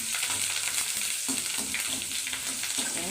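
Curry leaves frying in plenty of hot oil for a homemade egg gravy, a continuous bright crackling sizzle with small popping bursts, close and steady throughout with no talking.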